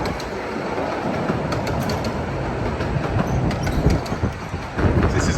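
Romney, Hythe & Dymchurch Railway miniature steam locomotive River Hythe rolling into the station, a steady broad rumble of wheels and carriages with faint clicks and rising clatter near the end, fairly close and continuous.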